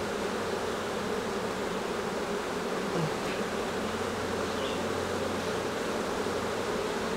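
Honeybees buzz steadily at an open hive, worker bees filling the air with a dense, continuous drone that stays close and even throughout, with no talking.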